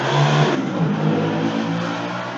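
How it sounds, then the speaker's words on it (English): Engines of small motorcycles roar and rev loudly at close range in a city alley during an informal drag race, a steady, dense motor drone throughout. "Not every day you get a little motorcycle drag race in the alley"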